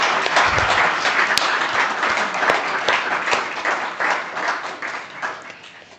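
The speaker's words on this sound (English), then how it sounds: "So please, a big round of applause for our panelists." Sustained applause from a conference audience at a skills forum in Rwanda, dense steady clapping filling the room from start to finish, with a few louder individual claps standing out.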